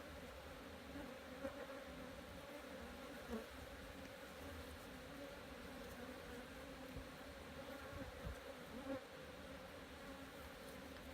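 A steady, dense hum of many honeybees buzzing continuously around a Flow hive during requeening, close by and even in level, with no voices.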